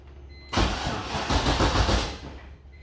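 An LS6 V8 swapped into a BMW E46 cranks briefly and catches, bursting into a loud, close, rough running rumble that holds steady for a couple of seconds.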